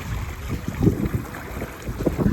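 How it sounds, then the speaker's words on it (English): Gusty wind rumbles and buffets the microphone aboard a Catalina 22 sailboat under sail, a steady low roar with irregular surges and no voices. "That wind just is like a downdraft, I guess."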